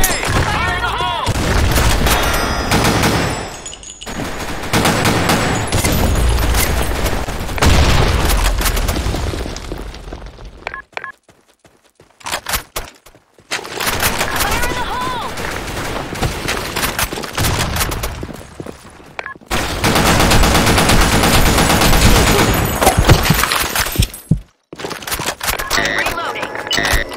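Grenade blasts and bursts of gunfire fill a video game battle in heavy, sustained volleys with booming explosions, broken by a few brief lulls, loud and dense throughout, with voices shouting beneath the noise.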